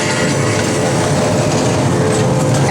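A horror-themed dark ride train at Old Tucson rumbles steadily along its track, a loud continuous rolling roar with faint rattling, close and unbroken throughout.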